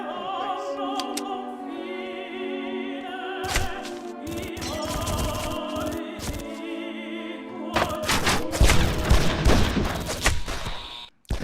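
Gunfire in the 2006 video game Made Man erupts in loud, sharp volleys and thuds over a tonal music bed, growing denser and more chaotic toward the end.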